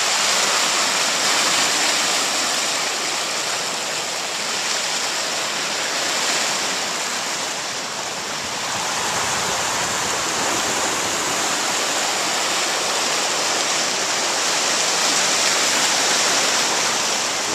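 Sea water washes steadily in over rocks in a calm Newfoundland bay, a loud continuous roaring wash of surf with gentle swells in intensity and no voices.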